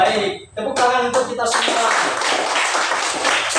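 A sixth-grade class in an Indonesian school bursts into close, dense hand clapping after a short spoken line, and the applause continues steadily to the end.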